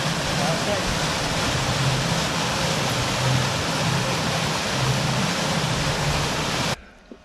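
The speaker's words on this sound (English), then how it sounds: "a lot of water was coming out" Water gushes loudly and steadily at a pumping station, a dense continuous rush that cuts off abruptly near the end.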